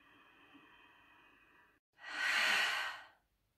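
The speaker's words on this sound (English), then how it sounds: "Everybody finding a deep breath in through the nose. Exhale through the mouth." Deep breathing as part of a guided yoga session: a slow, soft inhale through the nose followed by a louder, fuller exhale through the mouth, heard alone and close.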